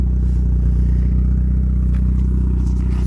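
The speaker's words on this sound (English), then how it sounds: "It sounds good" A Pontiac Sunbird GT idles through a newly welded exhaust with a chrome tip, giving a steady, close, loud low burble with faint mechanical clatter throughout.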